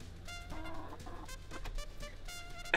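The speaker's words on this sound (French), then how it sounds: "J'ai passé du temps avec mes poules domestiques." Domestic hens cluck in a series of short, throaty calls at an uneven rhythm, close by and moderately loud, with no talking.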